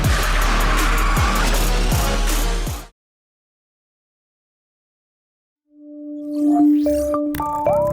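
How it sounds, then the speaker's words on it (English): A Porsche 911 Turbo roars with engine noise and tire squeal as it skids for a few seconds, then silence, then scattered electronic tones and clicks. "Despite a dangerous skid, this Porsche 911 Turbo recovers as if nothing happened."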